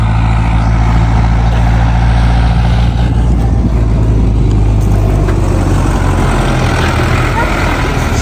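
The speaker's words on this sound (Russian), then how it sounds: "Вон Бауэр едет, работает." A farmer's tractor or similar farm vehicle works a field in Germany and makes a loud, continuous engine rumble with a low drone nearby. The rumble holds steady for the whole stretch, and wind noise sits under it.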